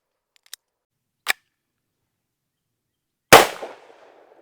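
A Tommybuilt T7 MP7 clone fires: two faint, sharp clicks followed about two seconds later by a single loud, close gunshot with a short decaying tail, separated by silence.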